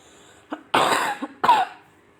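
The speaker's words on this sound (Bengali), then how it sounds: "কাশি হচ্ছে প্রচণ্ড" A person with a cold coughs hard in three close, harsh bursts, one short, then a longer fit, then another, during a sewing session making children's clothes, with no talking.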